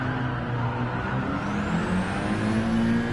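A car engine in the Gran Turismo 7 racing game holds at high revs, a steady loud droning whine that rises slightly in pitch, with no talking.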